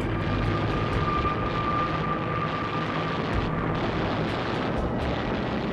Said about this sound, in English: another flight of Hiru's torpedo planes bear in for attack